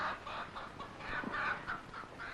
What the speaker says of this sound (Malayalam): ഇത് കൊക്കല്ല, കോഴിയാണ്.